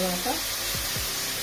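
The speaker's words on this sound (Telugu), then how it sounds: "ఇది గోల్డెన్ కలర్ వచ్చేదాకా వేయించుకోవాలి" Onions frying in oil until golden, a steady close sizzle with a couple of soft stirring scrapes, with no one talking.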